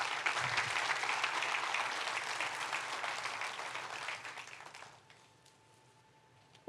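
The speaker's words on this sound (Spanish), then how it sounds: "Denle un fuerte aplauso a Dios por eso." A church congregation applauds steadily for about five seconds, a dense wash of clapping that thins and fades out near the end, leaving faint room tone.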